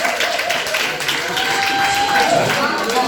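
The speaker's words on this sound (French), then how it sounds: "Applaudissez s'il vous plaît." Students applaud class A1 at an Alliance française presentation, a steady wash of many hands clapping with crowd noise and voices mixed in, holding even for several seconds.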